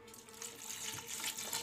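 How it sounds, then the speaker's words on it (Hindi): Water running into a cooking pot, likely a pressure cooker, while preparing keema curry with red chilli powder; a steady, fairly close splashing stream continues throughout with no talking. "और इसके बाद जो है इसमें हम डालेंगे पानी।"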